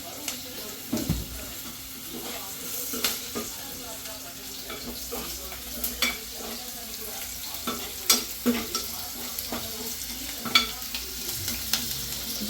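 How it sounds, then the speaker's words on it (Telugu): Onions fry in a pan and are stirred until browning for a moong dal curry, a soft steady sizzle broken by repeated scraping stirs at moderate distance. "బాగా వేయించుకోవాలా మంచిగా అది ఆనియన్ బ్రౌన్ కలర్ అవ్వాలా"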